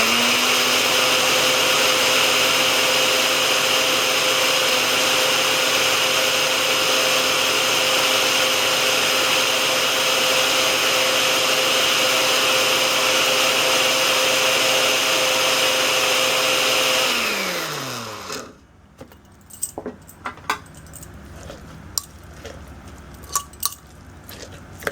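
A blender grinds mint chutney with spices, yogurt, tamarind and oil in a loud, steady whirr for about eighteen seconds, then winds down and stops, leaving a few faint clicks and handling noises.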